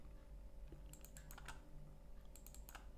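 Several sharp clicks of computer keyboard keys pressed during a GIMP 2.10.18 editing session, including the Enter key, come in two short clusters over a low steady hum, with no voices.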